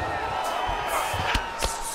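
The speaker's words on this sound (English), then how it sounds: "big pop from the crowd as they get back to their feet" Crowd noise in the UFC 5 fighting game, a steady arena roar with rising cheers and a couple of sharp thuds, under a commentator's voice.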